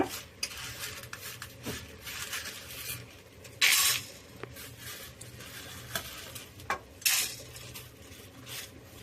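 Dry red chilies roasting in a dry pan for sambar spice powder, a quiet rustle with steady stirring, utensil scrapes and clinks, and two brighter scraping bursts near the middle and later.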